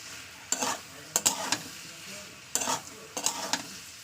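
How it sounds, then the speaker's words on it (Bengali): Bitter gourd, sweet potato and fish in oil fry over a high gas flame, a steady sizzle broken by four bursts of vigorous stirring and scraping in the pan, close up with no talking. "এবার আমি গ্যাসটা জোরে দিয়ে ভালো করে একটু ভাজা ভাজা করে নেবো"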